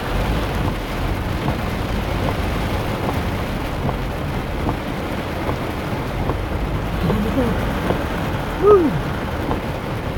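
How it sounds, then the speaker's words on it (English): Heavy rain falls during Hurricane Harvey flooding in Houston, a loud, constant wash of downpour with scattered drops close by, and a person lets out a short exclamation near the end. "That rain is picking up"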